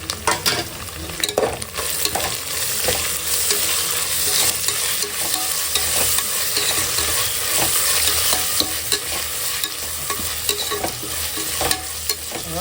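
Mint leaves and curry leaves sautéing with paste in a pan for a mutton nalli bone kurma, with steady close sizzling and frequent stirring scrapes all the way through, no voices.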